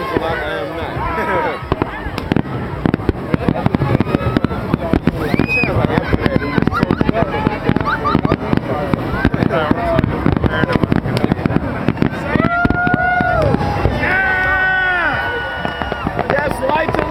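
A fireworks show at Waikiki Beach, with dense rapid bangs and crackling bursts going off continuously, loud and close, while a crowd murmurs and people talk and call out underneath throughout.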